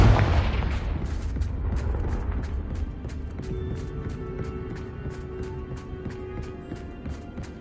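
A loud blast from the Confringo spell in Hogwarts Legacy opens, followed by a lingering rumbling decay and a run of faint, regular clicking hits fading under a low drone.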